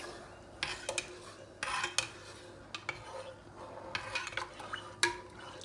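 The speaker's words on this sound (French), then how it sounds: "avec une cuillère, on va mélanger un peu." A spoon stirs hot water and rum in a dish for a baba au rhum, giving a series of close, irregular metallic clinks and scrapes against a quiet background.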